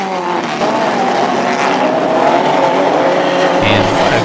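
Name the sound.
cars in an exhibition race on an oval track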